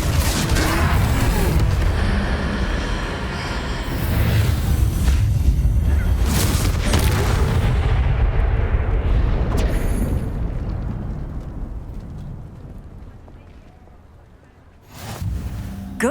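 Confringo fire spells in Hogwarts Legacy burst loudly during a troll battle. Heavy rumbling blasts and crackling fire fill the first half, fade to a low rumble, then a fresh sharp blast lands near the end.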